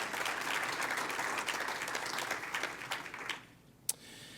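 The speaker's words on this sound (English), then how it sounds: "They deserve a round of applause." An audience at the United Way annual meeting applauds in a sustained burst of many hands clapping, which fades out toward the end before a single sharp clap or knock rings out alone.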